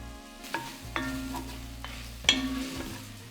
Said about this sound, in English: Don't need to be too exact, just a rough slice is absolutely fine. In with our onions.